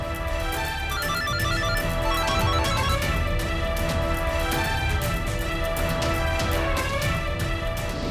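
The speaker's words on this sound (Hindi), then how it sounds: "प्लीज फोन उठाओ रोशनी।" An electronic ringtone plays continuously, a repeating melodic pattern with rhythmic pulses, steady in volume throughout and moderately close.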